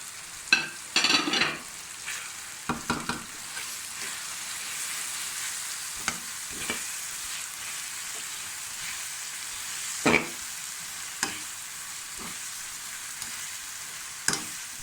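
Homemade spice mix fries in a pan with a steady, bright sizzle, and a spoon scrapes and stirs it in occasional close knocks and clatters. No voices are heard.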